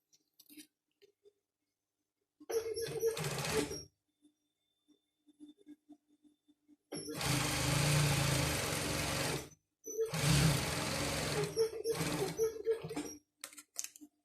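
A sewing machine stitches a fabric bag through a thick four-layer folded hem at the bag's opening, running in three bursts of close, steady whirring with quiet pauses between them.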